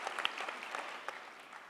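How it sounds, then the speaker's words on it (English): Applause from a university commencement audience, a faint, distant patter of many hands clapping with a few sharper individual claps standing out, steady and soft throughout. "You can clap. I don't mind that."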